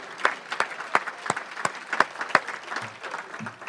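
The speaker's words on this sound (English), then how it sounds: "Let's give a huge round of applause to Aurelie and Oscar" Scattered applause from a modest audience at a community gathering, individual claps standing out as distinct sharp bursts at an uneven rhythm, fairly close, fading toward the end.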